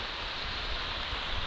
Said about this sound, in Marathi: बाहेर पाऊस लागतो बघा